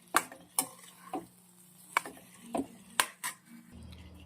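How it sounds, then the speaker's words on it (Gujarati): Fried bitter gourd being stirred into a spice masala in a pan, with a spoon scraping and clinking in sharp separate strokes about every half second over a faint sizzle, close up and with no talk. "હવે કારેલાનો બધો મસાલો મિક્સ કરી દઈએ."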